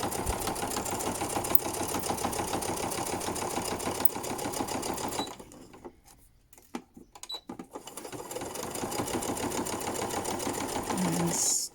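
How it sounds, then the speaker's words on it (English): A sewing machine stitches a fabric seam for a clear-window face mask, a steady fast whirring chatter that pauses briefly midway for short reverse stitches, then runs on. "Always make sure you do your reverse stitches as well."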